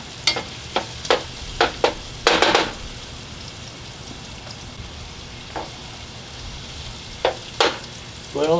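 Fish stew sauce sizzles gently in a pan while being stirred, with a series of sharp spoon and pan scrapes breaking through a soft, continuous frying hiss.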